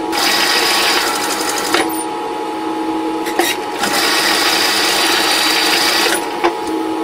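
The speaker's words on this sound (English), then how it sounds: "So we'll sew the center seam first." A sewing machine stitches the center seam of a large fabric puppet, running in a steady continuous whir with brief pauses and clicks between bursts, close and loud with no talking.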